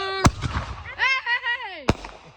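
Two sharp firework mortar launches crack close by during a Fourth of July backyard display, a couple of seconds apart, with a whistling, crackling burst between them and excited voices nearby.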